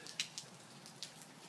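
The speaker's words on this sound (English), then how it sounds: "here in Arizona we're experiencing a rare, pretty steady and heavy rain." Heavy, steady rain falling in Sun Lakes, Arizona, heard as a faint continuous patter with a few sharper drop hits standing out, with no voices.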